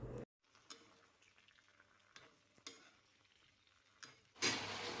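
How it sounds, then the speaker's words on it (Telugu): Cubes of paneer frying in a pan on the stove, a steady quiet sizzle broken by a few stirring scrapes and clinks, no voices. "ఈ ఆనియన్స్ ఫ్రై అవ్వకముందే మనం ఫస్ట్ ఈ పన్నీర్ ఫ్రై చేసుకుని తీసేసుకోవాలండి."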